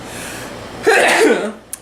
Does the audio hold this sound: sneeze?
yes